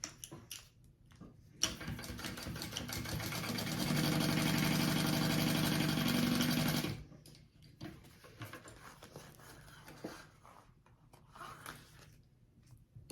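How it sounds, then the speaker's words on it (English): A sewing machine stitches up the sides of a sling bag pocket in one steady, dense whirring run of about five seconds, close and loud, with quiet handling noises before and after. "fold my exterior out of the way, and sew up the sides of the pocket again"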